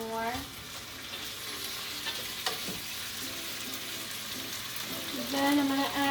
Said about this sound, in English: Throw my chicken back in there so it can absorb some of those new flavors. And heat it up a teeny bit more.